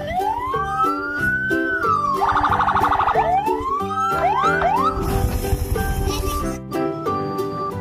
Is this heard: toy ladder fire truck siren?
yes